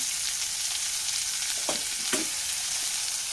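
Sliced onion and curry leaves fry in a pan with a steady, even hiss of hot oil. Two brief scrapes of a spoon stir through the middle, heard close by with no talking.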